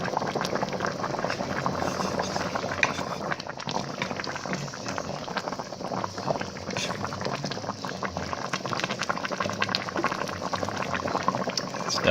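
A beef chuck roast searing on the high sear/sauté setting of a Ninja Foodi, a dense, bubbling, spattering sizzle that runs constant and close for the whole stretch.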